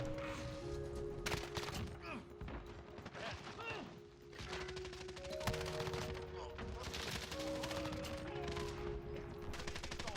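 Assault rifle gunfire in Call of Duty Modern Warfare multiplayer, with rapid automatic bursts and mechanical weapon handling that repeat across the scene and stay loud over constant game noise.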